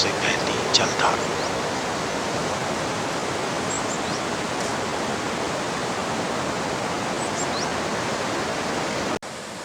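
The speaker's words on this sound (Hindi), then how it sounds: "नंदाग्नि नदी की शांत और बड़े सुकून से बहती जलधारा" Steady broadband rush of the Nandakini river flowing calmly near Nandprayag, a continuous even wash of water filling the whole stretch, with a few faint high chirps briefly above it and a sudden drop in level at the very end.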